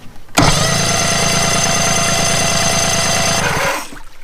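A 1973 Evinrude 65hp outboard motor cranks over by remote start, a loud, close, rapid rhythmic churning of the starter that runs for about three seconds and then stops, with no voices.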